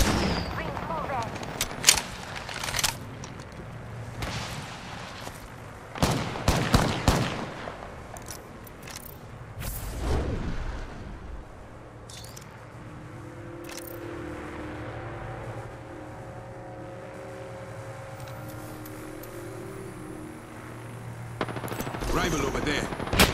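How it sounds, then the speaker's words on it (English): Rapid bursts of automatic gunfire in the PS5 video game Apex Legends crackle in close clusters at first, then fade to a quieter stretch under a low droning hum before more shots return at the end. "I'm opening fire."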